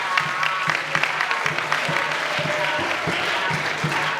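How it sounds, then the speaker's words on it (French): An audience at a political commemoration for Etienne Tshisekedi breaks into sustained clapping, dense and close throughout with a few louder individual claps. "Donc applaudissez pour ça."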